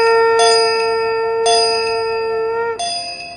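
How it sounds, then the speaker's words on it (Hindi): Temple bells ring in three separate strikes, each a bright metallic clang with a long, shimmering sustain that overlaps into the next, loud and near, with no voices. "घंटियां गूंजती"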